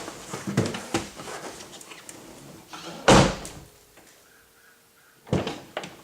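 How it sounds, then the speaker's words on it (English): A 2015-or-later Ford Mustang car door shuts with one loud, close solid slam, set among softer handling clicks and rustles, followed by a faint electronic chime. "Let me shut the door, make sure it opens."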